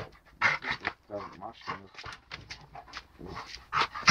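A dog pants in quick, breathy bursts close by, mixed in with people talking over it.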